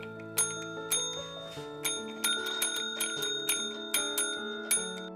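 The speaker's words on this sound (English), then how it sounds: "or ringing a bell." A bright bell rings repeatedly in a steady rhythm at a cat show, about ten clear strikes with ringing overtones layered over a sustained musical tone.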